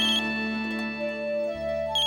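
Telephone ringing indoors at home, a loud close electronic ringtone with a steady melodic pattern that pauses briefly and starts again, with no one talking.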